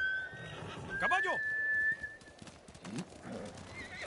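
A horse in the Ghost of Tsushima video game gives a loud, wavering whinny over hoof clip-clops, alongside a sustained whistle-like tone and other in-game sounds, with speech nearby.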